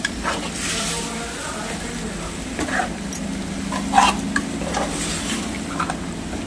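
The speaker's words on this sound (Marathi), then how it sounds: "आता पूर्ण मिक्स करून घेऊ आपण" A chicken dish seasoned with salt is stirred in a cooking pan: close scraping and clinking of a utensil over a soft background sizzle, with a few sharper knocks near the middle.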